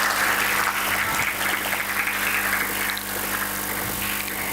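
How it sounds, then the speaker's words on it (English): A conference audience at PHYSIOCON2024 applauds in a dense, continuous wash of clapping that holds steady and loud throughout. "Claps should not stop, please."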